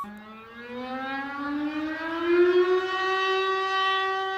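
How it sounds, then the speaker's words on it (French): A French civil defense siren in Poitiers wails steadily during its monthly noon test, its tone slowly rising in pitch and holding, loud and sustained with no other sounds. "la sécurité civile du territoire français teste le bon fonctionnement des sirènes le premier mercredi de chaque mois"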